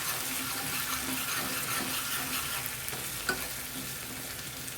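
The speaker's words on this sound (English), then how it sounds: "let us add curry leaves, and the ground masala." Curry leaves and a ground garlic masala for potato vada fry in a pan, a faint, even sizzling hiss that carries on steadily with no voices.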